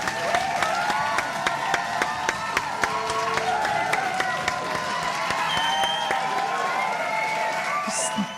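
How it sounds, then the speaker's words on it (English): Sustained crowd applause with cheering and whoops, loud and continuous throughout, many hands clapping with voices shouting among them. "Just 6 more minutes of applause."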